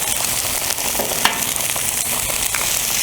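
Egg frying on a flat top griddle for fried rice, a loud, close, continuous hiss of sizzling fat with a few faint spatula clicks and no speech.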